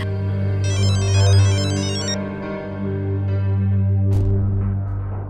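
A phone rings in a tense Indian TV drama scene, an electronic ringtone playing loudly and steadily over a sustained droning music bed, with no talk.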